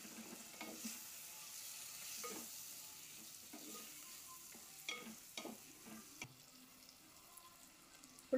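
Mutton curry sizzles quietly in a pan while a spoon stirs it, scraping in irregular strokes over a constant soft frying hiss, with no talking.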